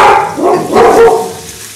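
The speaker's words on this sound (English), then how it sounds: "She'll stop barking in a minute." A dog barks loudly and close in a home kitchen during cooking, two or three sharp barks in quick succession before fading, with no talk.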